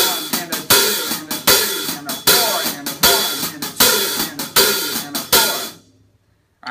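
A drum kit plays a fatback groove with the hi-hat opening and closing on the downbeats, giving crisp, evenly spaced cymbal hits with a sizzling swell on the open strokes, close and loud, before the playing stops and it falls quiet.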